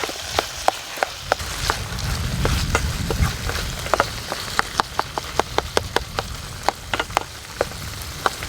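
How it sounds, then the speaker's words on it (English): Chicken breast frying on a camping grill, a steady close sizzle with frequent sharp pops and crackles spread through the whole stretch, no voices. "this started frying almost instantly"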